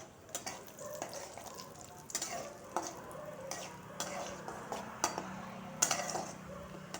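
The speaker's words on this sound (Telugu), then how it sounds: "ఇప్పుడు పిండి వేస్తాను. పిండి వేసి వేచుతాను పెసర్ల పిండి." Moong dal flour stirred and roasting in a pan for laddus, with soft sizzling and repeated scraping strokes of a spoon, close and steady throughout.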